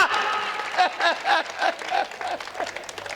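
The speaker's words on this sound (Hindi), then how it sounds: "ताली बजाओ" An audience claps in a steady, moderately loud burst of applause at a live poetry performance.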